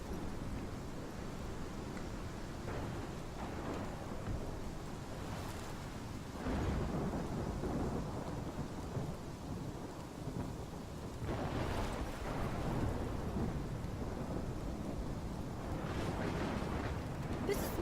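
Heavy rain falls steadily through a thunderstorm in the game Life is Strange, with deep rolling thunder swelling near the start and again toward the end, loud and close, with no voices.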